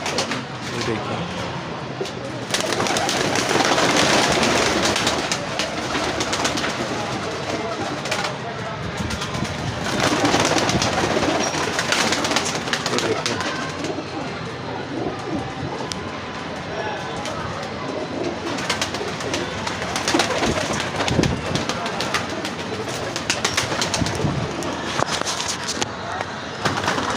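Pigeons coo and flutter nearby amid a busy background of voices and outdoor noise, with the birds' sounds steady throughout.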